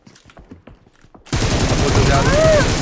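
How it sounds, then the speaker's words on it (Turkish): Dense, loud automatic gunfire erupts in the battle royale mobile game PUBG Mobile, following a stretch of quieter footsteps and game sounds, and then holding as a sustained rapid burst to the end. "karşıdan sıkıyordu"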